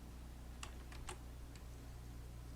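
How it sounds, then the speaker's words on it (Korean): A few faint, quick computer keyboard key clicks, F key presses in a metaverse app, spaced unevenly over a quiet background hum. "그럼 F키를 눌러요."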